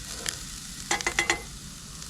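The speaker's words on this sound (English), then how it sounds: "it is time to put the onion in the pressure cooker" Onion sizzling in hot oil with garlic inside a pressure cooker at a Colorado mountain campsite, a steady close frying hiss broken by a short run of stirring scrapes and clinks, with no talk.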